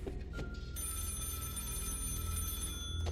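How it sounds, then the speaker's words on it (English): A telephone rings persistently in a video game, its electronic bell trilling on and on over a low, humming game soundtrack, at a moderate distance. "is somebody gonna pick up the damn phone?"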